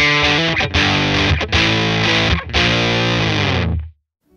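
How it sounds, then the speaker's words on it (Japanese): A Meris LVX delay pedal set up as a fuzz-like distortion colours a guitar, giving loud, saturated chords struck in a few separate hits. The last one rings and is cut off abruptly. "LVX なんと歪みエフェクターにもなります"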